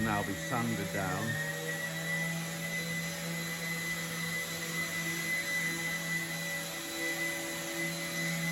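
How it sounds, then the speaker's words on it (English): Power sander working steadily across the undercoated hull of a narrowboat at a wharf, a loud continuous whine and drone held throughout, with a brief voice heard near the start. "So the whole boat will now be sanded down."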